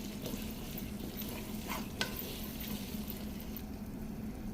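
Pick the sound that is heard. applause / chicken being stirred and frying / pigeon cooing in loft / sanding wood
chicken being stirred and frying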